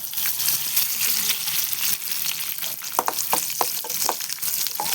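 Chili and curry leaves fry in hot oil for erissery curry, giving a steady close sizzle with sharp crackles and pops that grow more frequent toward the end.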